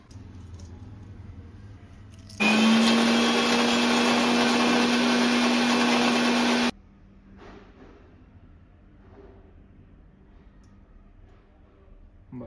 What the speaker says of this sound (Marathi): मी ह्याच्यामध्येच काजू बदाम टाकणार आहे बारीक करायला. आणि हे मिक्सरला लावून घ्यायचं.